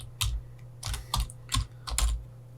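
Typing on a computer keyboard while writing Kotlin code for an Android app, five quick bursts of close key clacks in an irregular rhythm, no talking.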